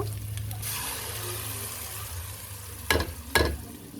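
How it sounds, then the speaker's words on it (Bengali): Spices and green chili paste dropped into onion and garlic browning in oil, a steady low sizzle followed by two sharp bursts of spattering as the additions hit the pan. "সব ধরনের মশলাগুলা আর কাঁচামরিচ বাটাগুলা দিয়ে দিচ্ছি"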